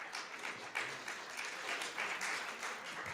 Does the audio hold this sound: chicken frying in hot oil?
no